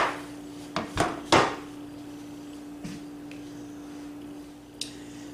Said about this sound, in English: Let me get these off into a bowl and we'll split one open.